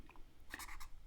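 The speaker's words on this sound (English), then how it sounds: "I'm just going to write this down on a piece of paper" A pen scratches briefly across a sheet of paper, a few soft strokes close by in an otherwise quiet room.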